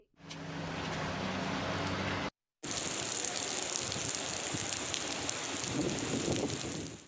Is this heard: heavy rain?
yes